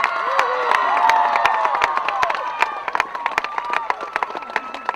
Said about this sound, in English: Big round of applause, please, on my behalf for Epsom Girls Grammar